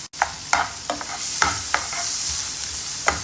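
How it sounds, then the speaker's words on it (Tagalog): Onion dropped into hot oil sizzles steadily, with a run of sharp crackles and spatters as the pieces hit the pan, for a Filipino banana flower dish cooked in coconut milk. "the oil is already hot, so we can add and or put or fry one by one. So I just put the onion."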